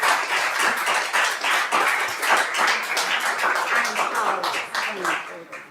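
An audience applauds at a city historic zoning commission meeting, a dense burst of many hands clapping that holds steady for several seconds before thinning out, with voices talking over it.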